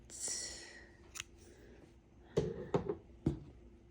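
Scissors snip through crochet yarn, a few crisp close-up cuts and clicks following a soft rustle of handling.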